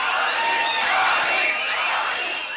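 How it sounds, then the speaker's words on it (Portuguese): A large crowd cheers and roars before an Armin van Buuren trance show, a sustained dense wall of voices with scattered whoops, loud and continuous. "O som e o nome arrancam aplausos antes do show começar."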